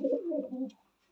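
A pigeon coos close by in one short, low, throaty burst that fades within a second, alone with no talk.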